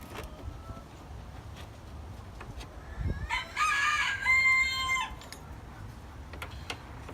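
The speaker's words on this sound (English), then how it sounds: "the rooster, of course, decides he needs to crow" A rooster crows once in the middle distance, a drawn-out cock-a-doodle-doo over soft outdoor background noise.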